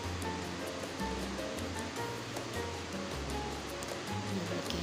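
Masala spices with turmeric fry in a pan, giving a steady close hiss and sizzle with faint scraping and stirring throughout.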